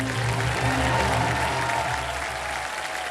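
Studio audience applauding on a televised quiz show set, a dense steady wash of clapping with a low musical hum underneath, fading slightly toward the end.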